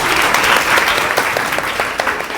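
A group of people claps hands in a lively burst of steady, dense applause that carries through from start to finish, loud and close, with no talking over it.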